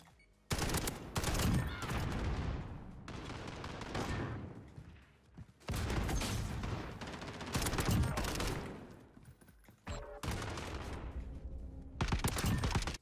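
FAL rifle in a shooter video game firing repeated loud bursts, dense rapid gunfire in long volleys with brief pauses between them, close and dominant with no speech over it.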